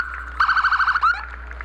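An AMR ambulance passing in a Fourth of July parade sounds a wailing electronic siren, a rapid yelp pattern pulsing about eight times before a short rising wail, loud and nearby over crowd ambience.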